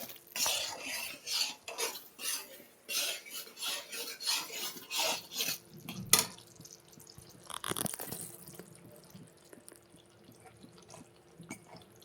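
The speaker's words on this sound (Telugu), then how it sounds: "ఇప్పుడు కలుపుకొని ఈ కొబ్బరి తురుము వేసుకుందాం." Grated coconut is stirred in a pan for coconut laddus, giving rhythmic raspy scrapes of a spoon that pulse every half second or so, close and fairly quiet, then a few clinks.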